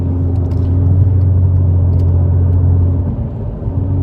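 A 2016 Hyundai Genesis Coupe 3.8 cruises on the highway on a cloudy day, its engine giving a loud, steady low drone and road rumble with no talk.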